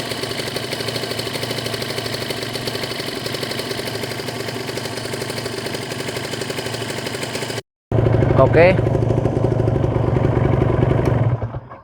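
A warmed-up Kawasaki Ninja 150 RR two-stroke engine idles steadily at around 1000 to 1200 rpm, a loud, even, buzzing putter close by, with a brief cut and a short spoken word near the end.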